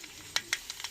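Mustard seeds hit hot oil in a pan, giving a steady hiss broken by a few sharp crackling pops, close and short.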